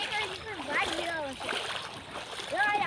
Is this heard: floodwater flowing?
yes